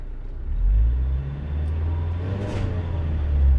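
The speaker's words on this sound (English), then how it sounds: "I'll do a 0 to 60 test in the van" A van pulls away hard during a 0 to 60 acceleration test, its engine droning in a steady, close rumble that swells slightly as it gains speed, with no voices.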